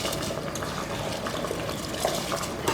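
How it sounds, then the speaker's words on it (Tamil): Water at a rolling boil in a cooker pot before rice is added, a close, steady, dense bubbling and hissing that runs without pause and with no talk. "தண்ணி நல்லா கொதிக்க ஆரம்பிச்சிருச்சு."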